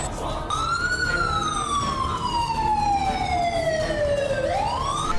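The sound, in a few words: sirens sounding at militant camps in Pakistan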